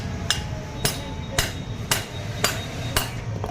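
A hammer taps the wheel bolts of a Maruti Omni six times at an even, unhurried pace, each strike a sharp metallic clink, close up with no speech.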